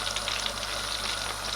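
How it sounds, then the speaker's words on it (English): Steady, soft sizzling and crackling of cumin seeds frying in hot melted butter, a continuous even hiss with no talking. "You're going to start hearing sizzling."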